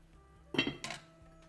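A lid is set on a pot of cooking carrot and peas sabzi, giving two quick close metallic clanks in a quiet kitchen, with no talking.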